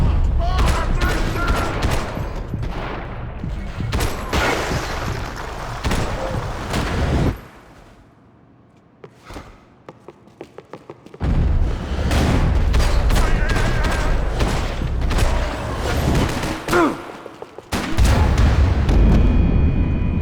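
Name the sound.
gunfire in the video game Max Payne 3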